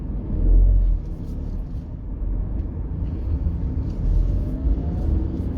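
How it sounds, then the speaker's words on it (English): A Tata Altroz iTurbo rolls slowly over rough, broken road patches, giving a steady low rumble of tyres and suspension with a few heavier thumps, heard continuously from inside the cabin. "we're really going through some bad patches and the Altroz just irons it out very significantly"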